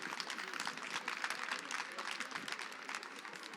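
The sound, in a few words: audience applause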